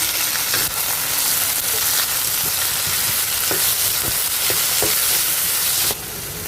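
Finely chopped small tomatoes fry with onions in a pan, making a dense, close sizzle with intermittent stirring scrapes and no speech.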